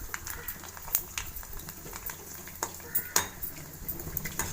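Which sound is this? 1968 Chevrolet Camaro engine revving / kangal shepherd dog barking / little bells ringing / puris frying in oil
puris frying in oil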